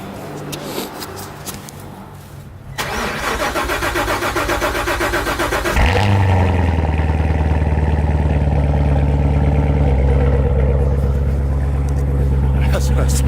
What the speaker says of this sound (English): Sounds like in a cold start. Thing's loud.